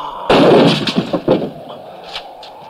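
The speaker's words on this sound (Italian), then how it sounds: "Io non minaccio, sceriffo, io sparo." A single sharp gunshot from the western film The Great Silence cracks loudly, followed by a brief echoing rumble that fades over a couple of seconds.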